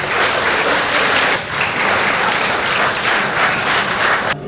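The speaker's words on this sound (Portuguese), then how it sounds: "Senhores, por mais um salve de palmas" A crowd at an association ceremony breaks into a loud, sustained round of applause honouring Vitorino Brandão, first president of ANAS. The thick, continuous clapping swells slightly and then cuts off abruptly at the end.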